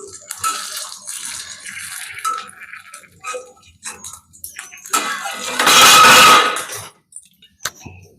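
Water poured onto a roti in a hot pan sets off a loud, close hissing sizzle that lasts about a second and a half, after scattered clinks and kitchen handling noises.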